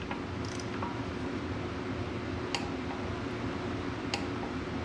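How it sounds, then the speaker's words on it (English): A torque wrench set to 50 foot-pounds tightens a bolt while installing a hydraulic thumb on a Kubota excavator: two sharp, separate clicks over a steady low mechanical hum. "So we got our torque wrench set to 50 foot-pounds of torque"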